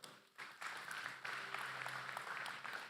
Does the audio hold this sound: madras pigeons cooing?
no